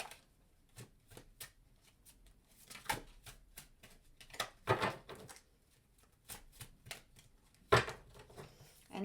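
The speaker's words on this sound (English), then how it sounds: "Shuffles." Tarot cards are shuffled close and quietly, with a steady run of soft flicks and taps and a few sharper snaps, without any talking.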